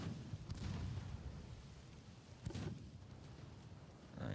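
Naval gunfire from warships hitting merchant ships in Ultimate Admiral: Dreadnoughts, with heavy booming blasts around the half-second mark and again near two and a half seconds over a continuous low rumble, no talking.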